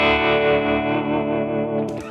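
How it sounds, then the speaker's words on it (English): Electric guitar played through a pedalboard with a tremolo pedal placed at the end of the chain, a sustained distorted chord with pulsing waviness that slowly decays before a brief final scrape. "Always put your tremolo in the end if you really want to hear that waviness."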